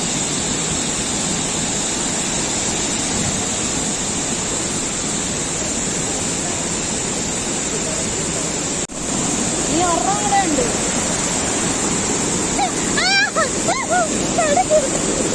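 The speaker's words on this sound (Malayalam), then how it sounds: "ഫൈനലി നമ്മൾ വട്ടവട വാട്ടർ ഫോൾസിൽ എത്തിയിട്ടുണ്ട്" Steady roar of rushing water at Vattavada waterfall fills the scene as a continuous broadband wash, close and loud, with a brief dip near the middle and faint voices or birdlike chirps rising over the torrent toward the end.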